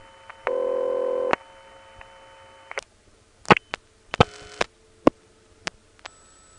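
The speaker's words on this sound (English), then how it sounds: "It's on the line now with this off-hook idle payphone. You can hear it while I'm dialing a number." An off-hook idle payphone line on the Far Rockaway 7 exchange: a steady tone lasting almost a second, then a string of short sharp clicks and brief dialing beeps in an uneven rhythm, clear and close with no voice.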